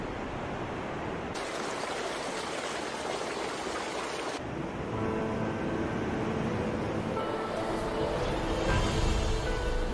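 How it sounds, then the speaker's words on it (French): Rushing river rapids and waterfalls in French Guiana, a steady broadband roar of churning water filling the scene throughout, close and continuous with no voices. "Rapides et cataractes sont fréquents en Guyane."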